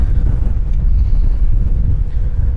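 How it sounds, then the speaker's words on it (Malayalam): Strong wind buffets the microphone on a high, exposed cliff top above a ferry port, a loud, continuous low roar with no letup and no talking. "ഇവിടെ ഞാൻ നിന്നിട്ട് ഭയങ്കര കാറ്റ് പിടിക്കുന്നു."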